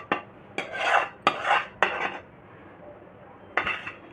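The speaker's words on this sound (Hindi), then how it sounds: "और सभी चीज़ों को हम अच्छे से मिक्स कर देंगे।" A spoon clanks and scrapes around a metal bowl in several distinct bursts, close and fairly loud, as spices are mixed into cut raw mango for pickle.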